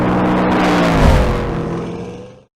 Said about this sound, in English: Under the hood of the Venom F5 is an American-made twin-turbocharged engine.